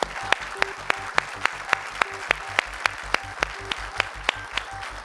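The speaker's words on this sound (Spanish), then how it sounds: "Y este aplauso es para vos." Applause for a contestant in a game show played for 100,000 pesos, heard as a steady, rhythmic run of evenly spaced loud claps alongside lighter background clapping.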